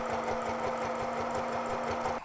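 A Janome Derby Line sewing machine runs steadily, its needle thumping in a fast, even rhythm for a couple of seconds with no voices over it.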